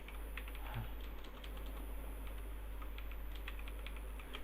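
Fast, steady tapping on a computer keyboard while HTML code is typed, close and fairly quiet over a low background hum, with no talking.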